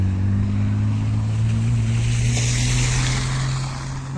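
A rally car drives on a rally road near the service park, its engine a steady low drone under heavy wind and outdoor rumble. No one speaks.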